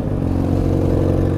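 A Yamaha XJ6 motorcycle engine revs nearby, a loud, steady droning roar that rises slightly toward the end, with no voices.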